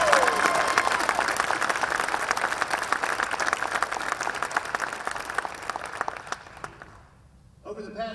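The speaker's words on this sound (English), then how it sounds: "Please join me in a round of applause." An audience breaks into sustained applause at a celebration welcoming Ryan Silverfield as the Razorback head coach; dense, loud clapping fills the room for about seven seconds, then thins out, with a brief fresh burst at the very end.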